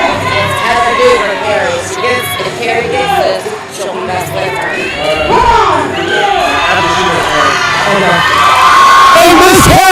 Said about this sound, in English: The crowd is going wild at this point.